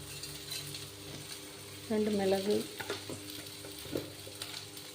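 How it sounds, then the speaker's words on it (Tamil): Grated coconut roasts in a pan for a Tamil home dish, with a soft dry sizzle, a brief metallic clink of a utensil against the pan near the middle and a few light scraping taps afterward. "அந்த தேங்காய் கொஞ்சம் போல் வறுத்துக்கலாம்"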